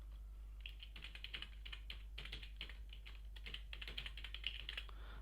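Someone types an email address into a login form on a computer keyboard, producing quiet, rapid clusters of key clicks with short pauses and a low steady hum underneath.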